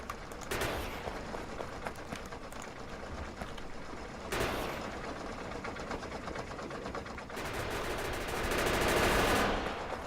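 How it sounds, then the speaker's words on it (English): Chain gun turrets in the game Factorio firing at biters, a dense continuous rattle of rapid automatic gunfire that keeps going for the whole stretch and swells louder near the end. "And so it was time to put the chain gunners to work."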